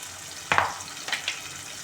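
Tomato frying in a pan for a chikkudukaya (broad bean) curry makes a faint, steady sizzle, broken by a couple of quick stirring scrapes.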